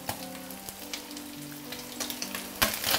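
Food pan-fries in oil in a wok over medium heat and is turned until dry and fragrant. A soft, steady sizzle carries scattered spatula scrapes and clicks, fairly faint, with a brighter burst near the end.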